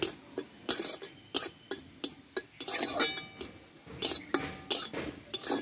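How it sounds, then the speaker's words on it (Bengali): Kasuri methi being dry roasted in a pan, with a utensil scraping and clinking against the metal in quick, uneven strokes, close by and fairly soft, with a steady low background hiss. "এখানে আমি 1 চামচ মতো কাসুরি মেথি নিয়েছি, এটাও একটু হালকা করে আমি ড্রাই রোস্ট করে নেব।"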